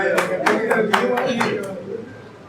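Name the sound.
audience clapping at a poetry gathering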